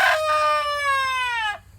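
A rooster at a homestead crows once, a loud close cock-a-doodle-doo with a rising start and a long sustained call that cuts off sharply, with no talk over it.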